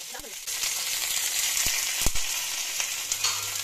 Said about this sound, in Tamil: மாங்காய் பச்சடிக்கு எண்ணெய் ஊற்றிட்டு கொஞ்சமாக கடுகு போட்டு இப்போ நல்லா பொரியணும்.